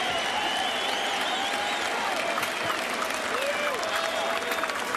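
Baseball stadium crowd gives a sustained ovation to a young pitcher leaving the game, dense continuous applause with scattered whistles and shouts, steady and fairly loud throughout.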